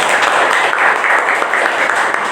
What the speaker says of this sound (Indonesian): Tepuk tangan buat Yuni kelompok.